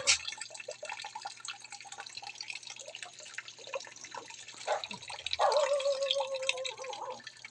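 A household water tap drips weakly at night, giving soft, scattered patters, then a brief trickling run of water near the end.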